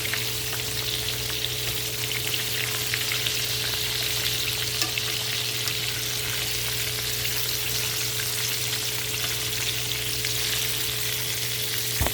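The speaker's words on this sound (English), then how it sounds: "While we got the fish frying and waiting on it to get ready" Oil sizzles and crackles continuously as fish fries, a dense, steady hiss with a faint electrical hum underneath, no voices.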